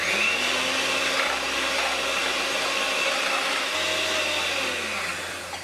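A handheld electric beater churns a coffee butterscotch pudding mixture with a loud, steady motor whine that shifts pitch slightly midway and eases off near the end, with no speech.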